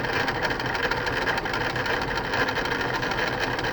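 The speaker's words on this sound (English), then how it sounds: "You're now sewing your first edge to edge." A computerized quilting machine stitching an edge-to-edge pattern, giving a steady rapid mechanical chatter over a constant motor hum, close and continuous with no voices.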